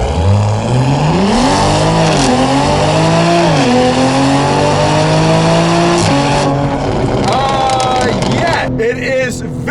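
A 2020 Toyota Supra launches hard from a standstill, its engine revving loudly and climbing through rising gear pulls with brief shifts between them, close and dominant throughout.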